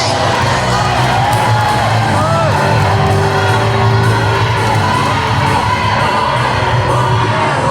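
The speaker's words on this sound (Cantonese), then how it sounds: "俾啲掌聲佢哋。" A lively crowd cheers and whoops for eight singing-contest finalists taking the stage, with scattered shouts and a steady roar of voices carrying throughout.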